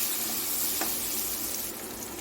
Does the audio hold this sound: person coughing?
no